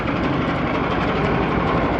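A large fan running steadily at low idle, a dense continuous broadband whoosh of moving air with a low rumble underneath, loud and close with no talking.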